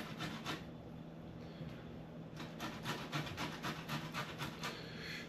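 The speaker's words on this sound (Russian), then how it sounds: "на мелкой терке нам ее надо протереть, морковочку" A carrot is grated on a fine grater for a layered salmon salad. Quick rasping strokes repeat close by, a few at first, then a faster run of rhythmic scrapes, quiet and without talk.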